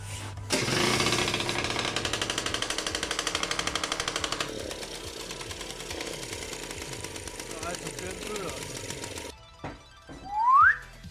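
A Derbi GP1 moped fitted with an MHR Nitro exhaust starts and runs with a loud, sharp two-stroke buzz, rattling for several seconds, then dropping to a rougher idle before it cuts out, followed by a short rising squeak.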